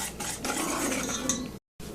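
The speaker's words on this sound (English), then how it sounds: "Go ahead and whisk it good." Pudding mix being whisked into milk in a bowl for a St. Patrick's Day dessert: a steady, close scraping swish of the whisk against the bowl, continuous with a brief pause near the end.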